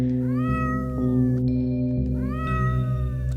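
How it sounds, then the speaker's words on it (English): Sprite cats meow in the video game OneShot, a few high, rising mews repeating over a steady droning game tone, loud and clear with no talking. "look at those sprite cats"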